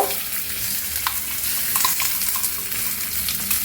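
Ground fenugreek leaves frying in a pan, a steady close sizzle with light crackles and an occasional soft stirring scrape, no speech.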